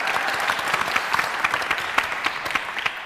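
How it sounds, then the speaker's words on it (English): A small live audience claps steadily, the individual hand claps distinct and uneven, moderately close and without voices. "Big round of applause."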